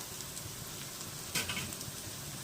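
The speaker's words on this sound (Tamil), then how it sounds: "ஆனியன் ஒரு மாதிரி நல்லா கோல்டன் கலரில் ரோஸ்ட் ஆகிடுச்சு பாருங்கள்" Onions roasting golden in a pan, giving a steady close sizzle with a brief louder burst of crackle midway.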